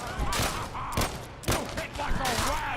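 Gunfire in the game Fallout 4 from a strong single-shot gun with double action, several sharp loud shots in quick succession, spaced roughly half a second apart, with a voice under them.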